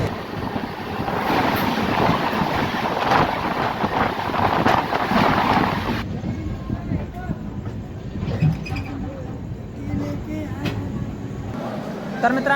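Karnataka Sampark Kranti Express 12629 on a nonstop run out of Davangere toward Hubballi, with a steady loud rumble and rushing wind from start to finish and rattling carriage noise in the second half, plus a voice speaking over it.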